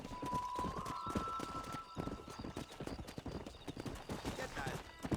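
In Red Dead Redemption a horse sets off into a brisk gallop, its hoofbeats pounding close and rhythmic with a whinny near the start, while voices talk and a tone sounds over the ride.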